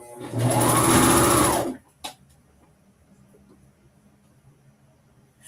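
A sewing machine stitches a top in a short, loud, fast continuous whir lasting under two seconds, then stops, followed by a click and quiet room tone.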